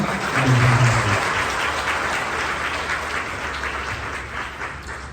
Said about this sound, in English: So a big round of applause for Brother Love.